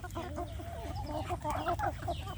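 Village chickens kept in a backyard flock cluck and chatter continuously at close range, several birds overlapping in a busy, steady stream of calls with no talking.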